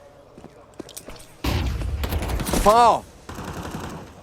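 Gunfire rattles out in a professional Counter-Strike esports match, a sudden loud burst of rapid shots that cuts off abruptly, with a caster talking briefly over the action.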